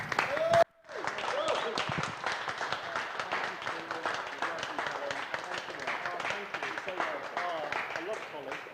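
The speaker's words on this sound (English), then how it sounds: "Give a big round of applause for Callum Cripps." Crowd applause for Callum Cripps, winner of a touring car race at Thruxton, steady clapping that runs on after a short gap with voices mixed into the noise.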